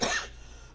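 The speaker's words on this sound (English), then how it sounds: "I have a cough coming on." One short, sharp cough close to the microphone, fading quickly into quiet room tone.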